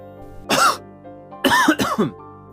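A man coughs heavily in rough, throaty bursts: one harsh cough, a pause, then a cluster of three hacking coughs, close and loud with no talking.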